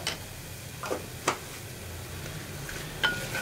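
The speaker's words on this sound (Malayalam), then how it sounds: "കായപ്പൊടിയും ചേർത്ത് നന്നായിട്ടൊന്ന് ഇളക്കി മിക്സ് ചെയ്യുക." A spoon stirs potato sabji with asafoetida in a frying pan, making a few sparse scraping taps and clinks over a faint, steady sizzle.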